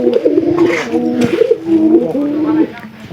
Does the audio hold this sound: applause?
no